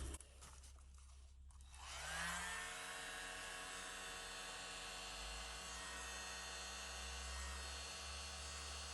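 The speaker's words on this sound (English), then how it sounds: "I'll use my little mini blower." A small handheld mini blower switches on after a quiet moment and blows off paint, giving a steady, high whirring hum that holds until the end. The sound is fairly faint and close by.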